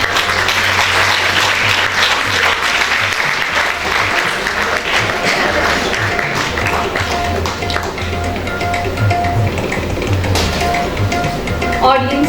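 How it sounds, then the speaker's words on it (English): Audience clapping steadily at a school award ceremony as parents come forward, dense continuous applause with a low hum and a faint tone underneath, a voice entering near the end. "Audience, kindly keep clapping."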